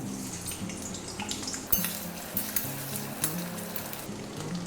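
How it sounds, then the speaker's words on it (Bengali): Small cut pieces of potato fry in hot oil, giving a steady, quiet sizzle with scattered soft pops and crackles throughout, close by and without talk. "এবারে আমি তেলের মধ্যে দুটো আলু নিয়েছি ছোট ছোট করে কেটে এটা একটু ভেজে নেব"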